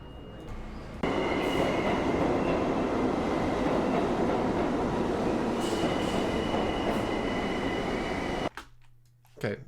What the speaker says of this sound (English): the type of very stereotypical train sound that I want